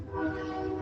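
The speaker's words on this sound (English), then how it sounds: "Here comes the train." A train passing nearby in Oklahoma sounds its horn in a steady, sustained blare with a continuous rumble beneath it, loud and close throughout the short span.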